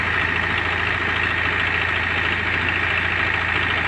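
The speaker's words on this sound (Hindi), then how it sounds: "अब नई टेक्नोलॉजी है तो ट्रैक्टर पर ही सब कुछ होता है" Tractor engine runs steadily at idle during crop threshing in Kargil, Ladakh, a loud, close, continuous drone with a rough, knocking texture and no talking.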